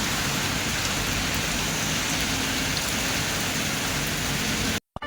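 Steady heavy rain pours down continuously, a dense even wash of drops drumming on surfaces close by, with no voices, cutting off abruptly at the very end.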